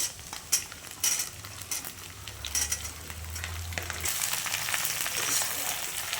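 Green beans go into a pan where dried fish and garlic are frying, giving a steady, close sizzle with scraping stir strokes and clinks of a utensil, growing denser and louder toward the end.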